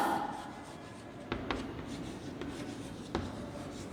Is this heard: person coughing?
no